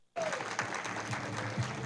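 An audience applauds a man's wife, Estela, at a talk, steady dense clapping filling the short stretch after a brief spoken lead-in, moderately loud and even throughout.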